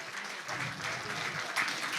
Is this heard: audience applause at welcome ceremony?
yes